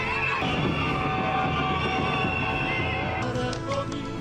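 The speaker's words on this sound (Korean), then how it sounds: "한 남자가 등장하자 시민들은 열광적으로 환호했고" A large crowd of citizens cheers enthusiastically for an arriving man, a steady dense roar of voices and yells with no pauses, close and full throughout.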